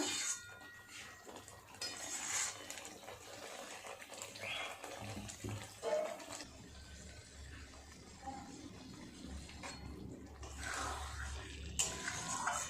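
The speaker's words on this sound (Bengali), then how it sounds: "পনির দিয়ে আর একটু ভালো করে মিশিয়ে নিলাম" Spatula scraping and stirring fried paneer in a cooking pan, scattered metallic clinks and soft scrapes at moderate volume over a faint background hiss.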